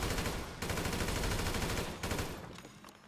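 Loud bursts of rapid automatic gunfire in GTA V with a brief break in between, dense and close, then trailing off with a few scattered shots.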